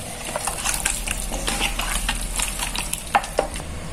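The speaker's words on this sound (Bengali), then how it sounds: "এখন চিকেনগুলো ভালোভাবে মাখিয়ে নেব।" Chicken pieces are worked by hand with mustard oil and spices, giving wet squelching and stirring sounds in irregular bursts with a few sharp clicks near the end.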